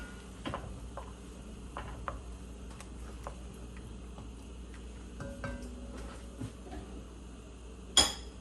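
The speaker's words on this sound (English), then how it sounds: "Now I'm going to add my peas, and I use the whole can of the peas. I'm going to stir." Canned peas are stirred in a cooking pot for a cornmeal dish, giving faint, sparse metallic ticks and clinks of a spoon against the pot, with a sharper clink near the end.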